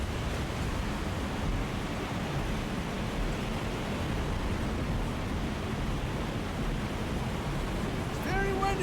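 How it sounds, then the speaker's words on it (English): Outdoors in a storm in the Alone in the Dark (2024) video game, strong wind blows as a steady, dense roar that lasts throughout, with no break and no voices. "It's very windy out here."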